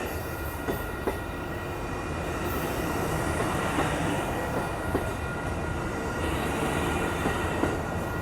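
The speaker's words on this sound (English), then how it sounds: "So this is Amtrak Coast Starlight Train 11 going to Los Angeles" Amtrak Coast Starlight passenger train 11 rolls past 98th Avenue in Oakland, California, a loud steady rumble with rhythmic wheel clicks over rail joints and faint squeals, close by throughout.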